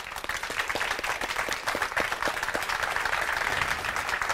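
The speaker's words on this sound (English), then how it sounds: "Can we give him a big round of applause?" A small live audience at a neuro-linguistic programming demonstration breaks into applause, a close, lively patter of individual claps with distinct hand strikes audible throughout.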